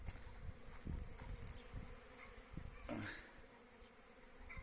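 Honey bees buzzing around hives at a spring apiary, a soft continuous hum with individual bees droning past near the listener, fairly faint against the outdoor background and with no one talking.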